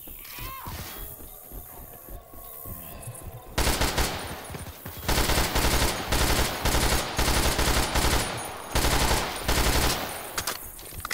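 Rifle gunfire in the video game Left 4 Dead 2, with quieter clatter and isolated shots at first, then loud sustained rapid bursts firing with brief pauses.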